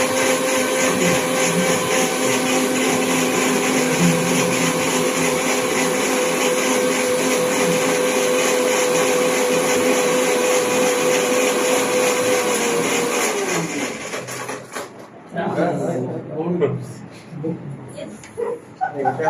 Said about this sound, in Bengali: এটা হচ্ছে মশলার ব্লেন্ডার, আর ব্লেন্ডারটা আলাদা।